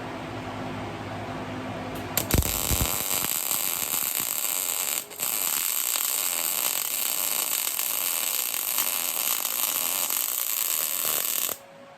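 MIG welding on 10 gauge steel with a Lincoln machine running 75/25 gas and .035 wire, drag technique: a steady, loud crackling hiss that runs nearly ten seconds with one short break midway, then stops abruptly.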